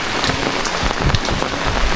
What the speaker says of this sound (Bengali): দেখেন বৃষ্টি হচ্ছে